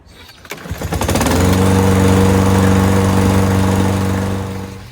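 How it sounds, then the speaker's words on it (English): A Toro lawn mower's small engine starts up and settles into a loud, steady running drone that holds for several seconds with no talk over it. "now we're going to run the mower just for a little bit"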